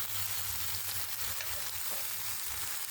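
Onions frying in a pan for a chicken legs dish, a steady soft sizzle with faint crackles running throughout, alone and without talk.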